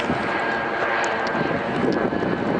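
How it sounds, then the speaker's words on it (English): A large airplane passes overhead near an abandoned gas processing plant by the water, a steady broad roar of engine and air noise that holds loud throughout, with faint wind over the microphone. "that's a big airplane."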